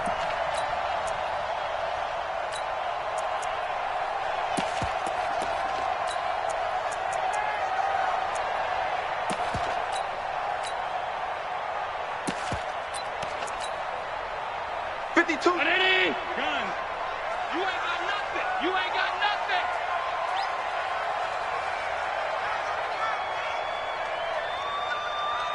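Simulated stadium crowd noise from Madden NFL 20 during a Texans vs Bills game, a steady, distant roar of fans with occasional thumps and swells running under a play-by-play commentator's voice.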